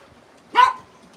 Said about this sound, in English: Hey, kitty, don't start barking.